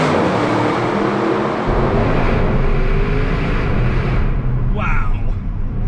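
A 2020 Audi RS7 accelerates hard on a winding mountain road, its engine a loud, continuous roar heard from inside the cabin, swelling steadily with a brief shift near the end.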